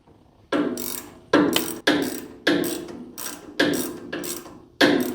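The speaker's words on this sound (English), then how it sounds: "I will jam a wrench or two in there like this, and then back out the bigger of the two bolts" A wrench ratcheting as it backs out a bolt on a chain breaker, seven loud close bursts of clicking pawl, each fading before the next stroke.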